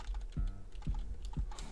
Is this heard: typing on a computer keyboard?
yes